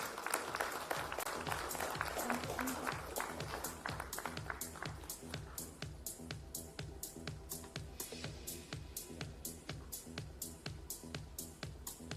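Applause from an awards ceremony audience at a live industry premiere event, a dense burst of clapping that thins into sparse, individual claps fading out.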